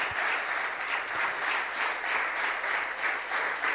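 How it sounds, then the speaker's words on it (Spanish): A church congregation applauds in a steady, dense wash of clapping that swells and pulses slightly throughout, with no voices over it. "denle otro aplauso"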